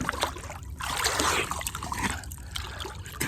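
Water splashes and trickles steadily as someone swims a morning session, a close, continuous wash of sloshing with brief surges and no talk.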